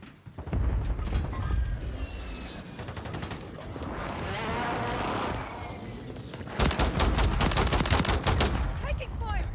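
Video game gunfire comes in loud, dense bursts of rapid automatic shots, with heavier booms and a steady battle roar underneath and fresh close volleys toward the end.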